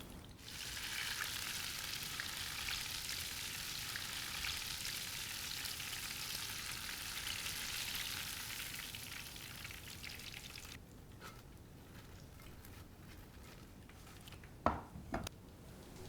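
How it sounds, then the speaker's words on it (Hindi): Amritsari fish fillets frying a second time in hot oil give off a steady, dense crackling sizzle for about ten seconds. The frying then quiets, with a few sharp utensil clatters near the end and no voices. "फिश को फ्राई करेंगे।"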